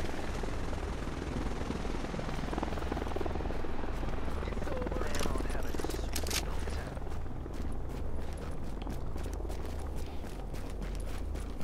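Helicopter in the video game The Division, a continuous low rotor thump and engine drone that holds steady throughout, with faint footstep-like sounds on top.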